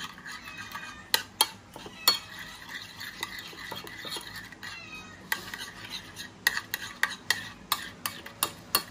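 A utensil stirs an eggplant omelette (tortang talong) mixture in a bowl, giving quiet scraping and a scattered series of sharp clinks against the bowl, with no talk.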